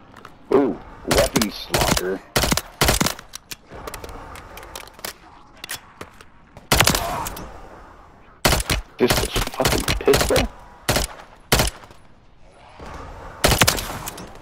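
Gunfire in Call of Duty Zombies, loud close bursts of rapid shots in irregular clusters across the whole stretch, with someone talking between them.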